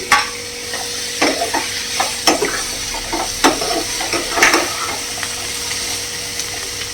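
Tomatoes frying in a pan for paneer butter masala, with a steady sizzle under intermittent stirring clicks and scrapes, fairly close and moderately loud, no voices.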